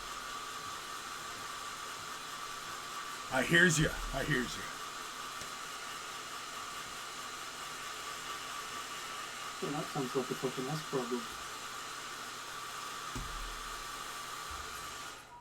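A hair dryer blows as a steady, even hiss through the whole stretch, with a few voices talking over it now and then.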